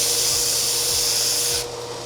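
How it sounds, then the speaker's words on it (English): A workshop sanding machine lightly takes burrs off cut metal stock in a metal shop, giving a steady, loud abrasive hiss that runs evenly and then drops off near the end. "we can use this to just lightly sand any burrs or edges that may be on our material"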